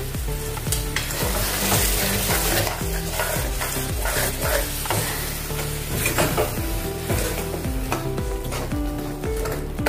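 Steady sizzling as spinach puree is stirred in a frying pan, a spoon scraping through it, close and continuous, with occasional clinks against the metal.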